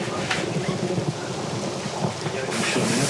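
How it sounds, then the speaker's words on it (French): Steady heavy rain pours on a Breton island during a storm, a dense, constant hiss that grows slightly louder near the end, with no voices over it. "Il faut attendre que la pluie s'arrête."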